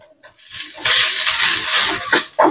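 Sliced onions drop into hot oil in a wok, setting off a sudden loud, bright sizzle that holds steady, then crackles and spits in short bursts as they are stirred.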